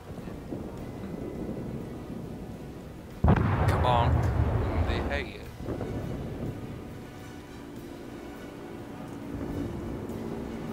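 Defensive anti-aircraft fire from a Des Moines cruiser in a naval warship game. It comes as a loud burst of rapid booming shots lasting about two seconds over a steady rumble of battle noise.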